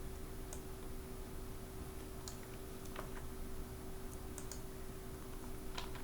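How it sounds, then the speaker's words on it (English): Faint, sparse computer keyboard and mouse clicks from cut-and-paste editing, a few scattered single taps over a steady electrical hum, with no one talking. "Again I will do some cut and paste."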